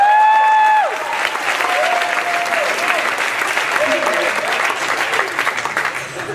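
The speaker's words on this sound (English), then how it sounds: "Applause for Nick Flanagan" A crowd at a talent show gives loud applause for contestant Nick Flanagan. The clapping is continuous and close, with a voice and a bending tonal squeal at the start, easing slightly toward the end.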